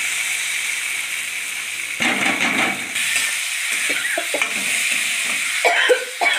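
Ingredients for a tinda (Indian round gourd) curry pour into a hot pan and burst into loud sizzling. A soft hiss comes first, then a sudden louder sizzle, then continued frying with scraping stir strokes and clinks close by.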